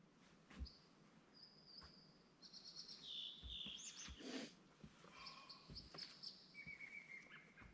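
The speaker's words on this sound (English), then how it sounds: "I don't know what birds those are." Several unidentified birds sing and chirp at a forest lake campsite in the Siskiyou National Forest, with faint, distant whistled phrases and tweets scattered over a quiet outdoor hush with soft knocks.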